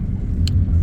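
Evening rush-hour road traffic in the Dominican Republic, a loud close low rumble of car engines with a brief higher whine passing through.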